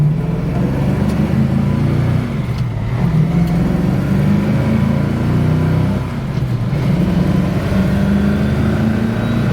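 A restored 1965 Ford Mustang coupe cruising on the road, its steady low engine drone and tire roar continuous and fairly loud, with slight dips in pitch as it moves through the gears.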